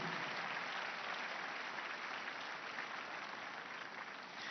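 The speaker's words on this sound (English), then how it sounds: "Let us clap for Jesus Christ." A congregation claps at a church healing prayer service, a steady, even wash of many hands sustained at moderate level from start to finish.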